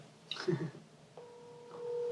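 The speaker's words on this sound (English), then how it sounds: "I'm I'm trying to call Sig" A phone dialing out to place a call, with a short burst of tones followed by a steady ringback-style tone, heard close and clear after a brief bit of chatter.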